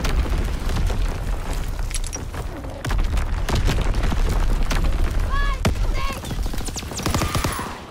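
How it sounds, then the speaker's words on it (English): Booming artillery blasts and gunfire crash loudly and repeatedly through a Call of Duty battlefield, with sharp impacts, rumbling low thuds and overlapping bursts over a dense war-game backdrop; game voice lines come through around them. "Incoming enemy artillery."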